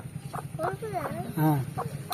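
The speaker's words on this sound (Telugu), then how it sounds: "ఈ కోడి మాది" A domestic chicken clucks close by in a few short, rising and falling calls over a low, steady background hum.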